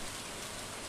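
Steady rain falling at night in spring in the Stardew Valley farming game, a soft, even hiss of pattering drops that holds constant throughout, faint and alone with no voices.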